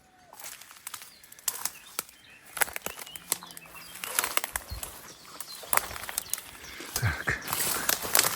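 Wings flap repeatedly in a Carpathian highland forest in spring, with sharp bursts of fluttering scattered throughout and a few faint bird calls in the background.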